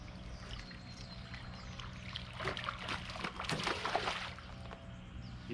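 A caught fish, landed from a small boat, splashes back into the water in a short burst of dribbling and pouring sounds near the hull, set against a quiet outdoor backdrop.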